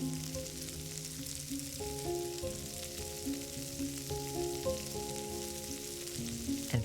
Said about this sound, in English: add your aromatics to some of the flavorful lamb fat and fond at the bottom of the pan